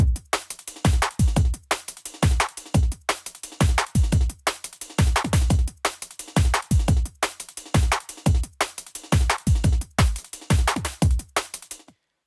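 A processed drum loop played on NI Maschine repeats steadily, with punchy kicks, snappy hits and crisp hats in a tight, loud, driving rhythm that cycles about every second and a half.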